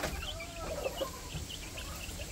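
Rhode Island chickens on a small poultry farm cluck in short, repeated calls over a steady background hiss, close by, with no talking.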